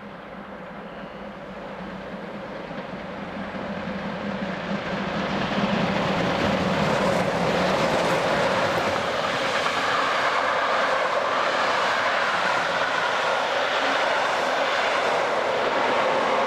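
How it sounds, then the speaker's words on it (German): Steam locomotive 03 1010 heads a special train, with 35 1097 and a pushing 118 770, rumbling steadily across a long high bridge toward Königstein; a broad, continuous roar builds from moderate to loud and holds near. "kommt unser Zug über die lange Hochbrücke zügig dem Bahnhof Königstein entgegen"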